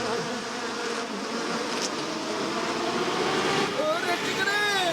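A cartoon bee buzzes loudly and continuously, its whine rising and wavering as it zips close, while a character speaks over the drone.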